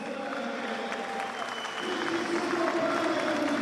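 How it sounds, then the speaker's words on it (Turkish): A crowd applauds the champion Beşiktaş team at the HDI Sigorta Türkiye Kupası trophy and medal ceremony, the steady clapping swelling louder partway through, with a voice talking underneath. "Büyük bir alkış hak ediyor bu takım."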